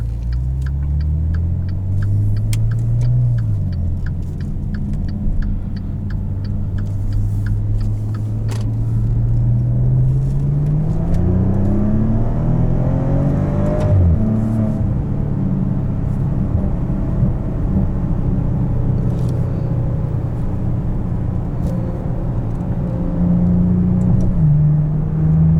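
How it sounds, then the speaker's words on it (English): A 2015 Maserati Ghibli S Q4 six-cylinder engine revs loudly and continuously, its deep droning pitch rising and falling through repeated climbs as the car accelerates and shifts, with no talking over it. "the Maserati Ghibli has one of the best sounding 6-cylinders"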